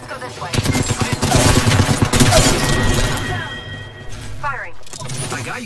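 Rapid bursts of automatic gunfire from the video game Apex Legends, dense loud rattling volleys for a few seconds that thin out toward the end, with a brief game voice line.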